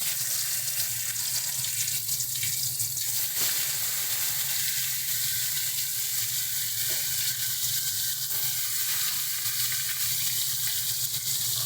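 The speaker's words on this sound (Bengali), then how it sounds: "এবার আমরা মাছগুলোকে ভেজে নেব।" Fish sizzles steadily in hot oil in a kadai, a dense continuous frying hiss that stays loud and even throughout with a few faint knocks, no voices.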